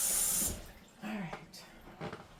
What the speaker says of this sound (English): Last bowl in the sink.